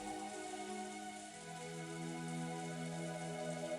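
Steady wind and rain, a soft continuous hiss and patter of raindrops under low faint tonal hum.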